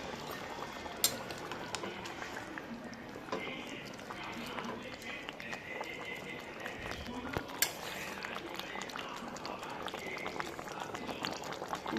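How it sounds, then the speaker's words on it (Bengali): A Bengali-style pomfret fish curry with potatoes and chopped coriander bubbles quietly in a pan, a soft continuous simmer with a few faint taps while someone talks over it. "মাছগুলোর সাথে আমি আবারও 5 মিনিট ফুটিয়ে নেবো"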